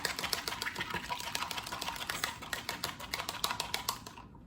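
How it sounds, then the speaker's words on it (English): Eggs being whisked in a bowl for banana bread batter: quick, steady clicking taps of the whisk against the bowl, close and continuous for several seconds. "I'm gonna break the eggs first into a different bowl and whisk it a little bit."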